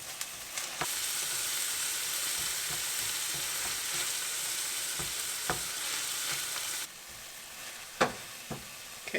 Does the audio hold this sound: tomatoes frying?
yes